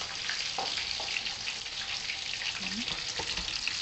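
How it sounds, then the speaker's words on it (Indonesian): Shallots sizzle and fry steadily in a hot pan, a continuous crackling hiss with occasional soft stirring clinks, close and alone without talk. "Nah ini bawang merahnya kita goreng dulu"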